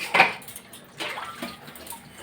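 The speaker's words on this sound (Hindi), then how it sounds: "फटाफट से बर्तन मांजते हैं" Dishes being washed at a sink: a sharp clatter of pots and utensils up front, then softer knocks and splashes of water.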